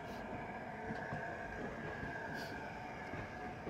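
A passenger train runs through thick fog, a steady low rumble and rattle of carriages with faint rhythmic wheel clatter and a brief high squeal, heard from inside at moderate level.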